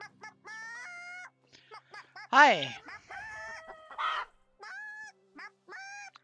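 Chickens cluck and squawk in the medieval survival game Medieval Dynasty, a run of short tonal calls with one loud harsh squawk in the middle, and a brief voice greeting is also heard.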